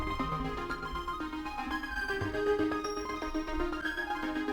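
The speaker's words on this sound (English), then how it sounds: "what you hear is Stepic playing the sound from Vital." The Stepic step sequencer drives a bright, toppy Vital synth patch for deep space ambient music, a continuous dense stepping pattern of tones at moderate level with no voices.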